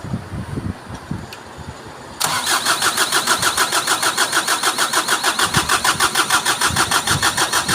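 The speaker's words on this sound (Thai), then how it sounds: "สตาร์ทเลยครับ พอดับปิดสวิตช์สตาร์ทใหม่ครับ" A Ford / Mazda BT-50 pickup engine cranks briefly and fires up, then settles into a steady, close, rhythmic idle that runs for several seconds with no talk.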